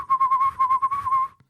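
A man whistles a wavering, pulsing high tone in quick bursts, imitating the buzzing whine of the Doctor Who sonic screwdriver; a single clear whistle about a second long, up close and alone.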